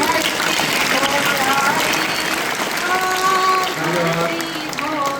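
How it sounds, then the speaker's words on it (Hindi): An audience claps loudly and continuously after a sung Rajasthani verse, the applause running under voices and tonal sounds throughout. "जोरदार तालियों से।"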